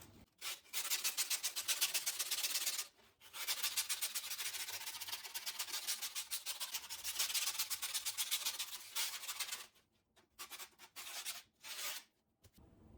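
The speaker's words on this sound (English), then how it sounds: "Grab these sheets of grip that we kept and just sand down the edges." Abrasive rubbing as skateboard grip tape edges are sanded down, a steady close scraping in long continuous strokes, then shorter broken bursts near the end, with no voices.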